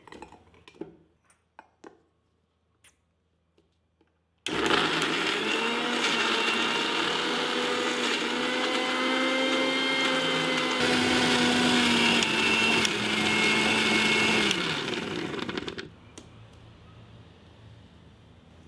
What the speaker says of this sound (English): Pound them together into a fine paste and keep aside.